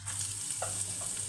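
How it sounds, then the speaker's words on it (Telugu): Dried red chillies, onion and garlic frying in hot oil for a tomato chutney, a steady close sizzle with faint stirring scrapes and a low background hum. "వీటన్నింటిని కొద్దిగా వేయించుకోవాలి."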